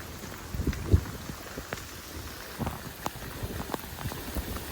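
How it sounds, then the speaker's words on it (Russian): Heavy tropical rain pours on Phu Quoc island, Vietnam, a dense continuous wash with scattered louder drips and splashes close by, and no voices. "Очень сильный, но от этого просто обалденный дождь."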